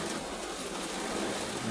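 Outdoor rain gives a steady, even hiss of drops hitting surfaces, moderately loud and unbroken, with no talking heard.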